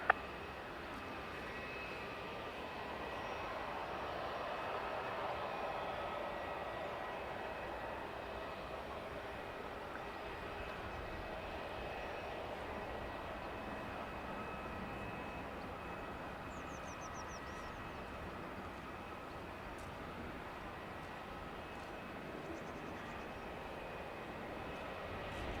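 A distant aircraft landing on runway 10 left at Dublin Airport gives a long, steady, faint roar that swells gently and then slowly fades.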